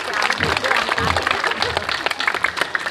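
A crowd claps at a Balinese temple ceremony, with quick uneven hand claps rising and falling as voices talk over them.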